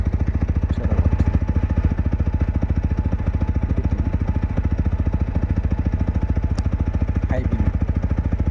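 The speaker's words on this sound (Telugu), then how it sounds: "బైక్ స్టార్ట్ చేశాను." Steady rapid idle of a 2024 TVS Apache 200 4V motorcycle engine up close, loud and evenly pulsing, with a few faint clicks over it.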